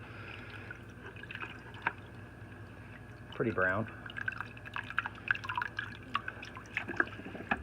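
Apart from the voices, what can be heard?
Fluval 406 filter sponges rinsed in siphoned tank water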